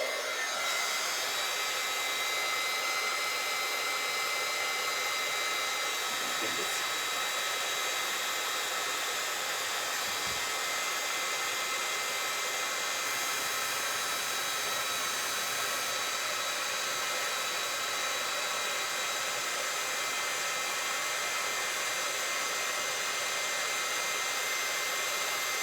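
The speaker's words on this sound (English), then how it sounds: "This is my kind of backup upstairs heat tool." A heat gun blowing continuously while heat embossing a card, a steady airy roar like a hair dryer that holds at a moderate level throughout, with no speech.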